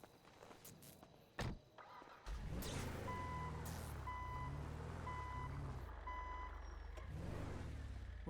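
Tow truck backing up in a video game, four evenly spaced reversing beeps over a loud low engine rumble, with some thuds and a door-like knock just before the engine starts.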